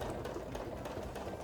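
A sewing machine stitches a quarter-inch seam on flanged binding, a fast, steady, close mechanical whir with rapid even needle pulses and no talking.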